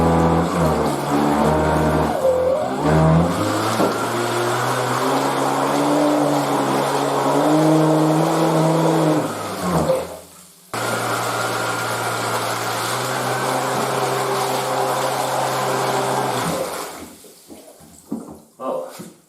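Boat outboard motor running at roughly 30% throttle, a steady mid-pitched engine drone with a brief pitch sweep early on, then a short drop-out and resumption before it tapers near the end.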